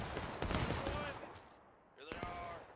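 Musket volleys crackle in War of Rights during a multiplayer campaign battle at Pry House, dense overlapping shots filling the first second and a half, then another burst near the end, with voices talking over the fire.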